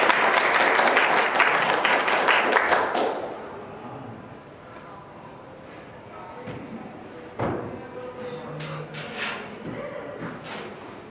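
A live audience at a December music performance in a museum gives a round of applause, dense clapping that holds for about three seconds and then fades into scattered claps, shuffling and a few thumps.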